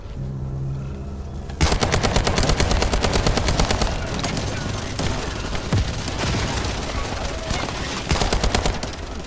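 Sustained rapid turret gunfire in the shooter game The First Descendant erupts after a quiet opening, loud and dense with rattling bursts that continue nearly nonstop, with a brief lull before another heavy volley.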